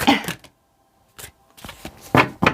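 A deck of cards is shuffled up close in short, crisp riffling bursts that stop and start, with a silent gap near the start and louder bursts toward the end.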